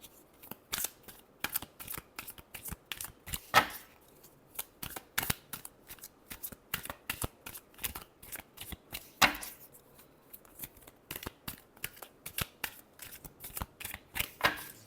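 Tarot cards being shuffled by hand, a steady run of sharp riffling and slapping bursts, close and fairly loud, with no voice over them.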